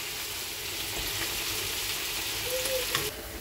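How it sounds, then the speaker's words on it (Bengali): Prawn curry gravy boils in a pan with a steady, soft, rain-like bubbling and sizzling, close and even throughout. "এবার একটু ঝোলটা ফুটুক।"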